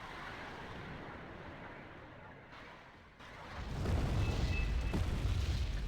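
Bombs dropped by a MiG-29 strike land in the real-time strategy game Wargame: Red Dragon, heard as a low, rumbling burst of explosions that swells loudly partway through and stays heavy to the end.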